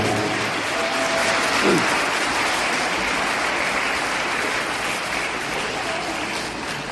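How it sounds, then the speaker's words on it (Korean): A wedding audience applauds as the ceremony begins, a dense, steady clapping that stays even and fairly loud across the whole stretch. "큰 박수 부탁드립니다."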